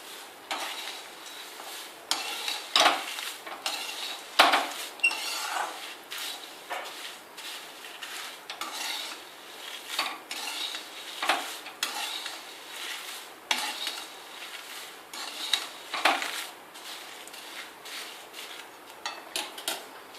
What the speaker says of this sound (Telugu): క్రిస్ప్ వచ్చే వరకు కొద్దిగా వేయించుకోవాలి.